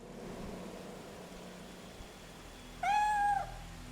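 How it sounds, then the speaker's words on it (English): A cat in the horror game Fatal Frame 3 gives a single clear, rising meow that stands out over a quiet, low ambient hum. "What's the kitty cat doing in here?"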